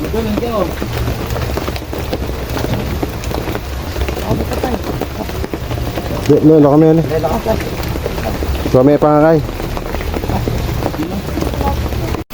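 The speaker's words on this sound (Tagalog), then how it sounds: "Ayan katropa, inabot tayo ng ulan. Ayan, ang lakas oh." Steady heavy rain drums hard on a surface during a typhoon fishing trip, a dense hiss under people talking nearby.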